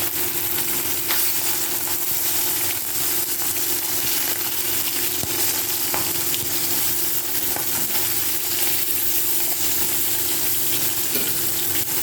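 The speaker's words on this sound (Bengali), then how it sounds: "বাকি মাছগুলো ভেজে তুলে নিয়ে" Fish fry in hot oil for mango chutney dai katla, a loud continuous close-up sizzle with occasional crackles and faint stirring, steady throughout with no talk.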